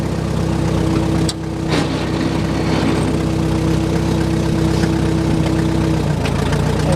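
A 1949 Allis Chalmers Model D motor grader's engine runs steadily, a loud, close, low droning rumble with a constant hum, dipping briefly once, and no voices over it.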